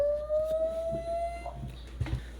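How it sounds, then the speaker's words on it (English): Annke Crater2 camera's alarm tone, a steady high electronic tone held for over a second, then fading, followed by a few faint clicks and soft low thumps in a quiet room. "So that was the alarm tone."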